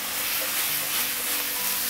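Potatoes and carrots stir-fry with ginger and garlic over the highest flame, giving a loud, continuous hissing sizzle heard close up with no speech.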